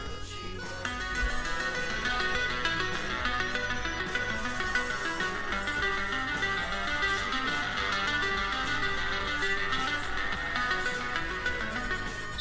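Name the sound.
synthesizer app playing synth sounds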